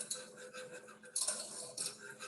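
A whisk working a sugar sauce in a pan on the stove, heard as a few soft, light metallic clinks and scrapes against the pan, fairly quiet and close.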